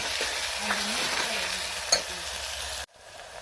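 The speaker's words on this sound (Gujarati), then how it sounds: "તળવા દઈએ" Onions and green chillies fry in a pan, a steady close sizzle with occasional scrapes of stirring and a brief clink before it cuts off.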